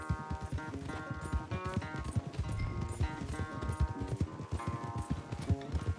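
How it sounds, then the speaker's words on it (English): A horse gallops in Red Dead Redemption 2 during a race, steady rapid hoofbeats thudding close and continuous over in-game music, with no talk. "I don't know who's more past it, you or your horse."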